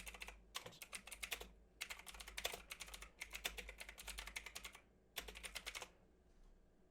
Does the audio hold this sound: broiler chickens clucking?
no